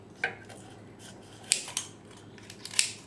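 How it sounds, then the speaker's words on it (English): Kitchen shears snip along a whole raw chicken's backbone to spatchcock it, a few crisp, separate crunching cuts spaced over a few seconds, close and fairly quiet, with no talking. "You just start cutting right there, close to the backbone, and you just cut all the way up to the neck."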